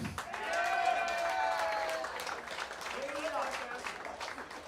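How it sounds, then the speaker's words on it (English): Applause from an audience at a live speaking-tour event, moderately quiet with clapping spread across the crowd, and voices and cheers rising over it. "Round of applause."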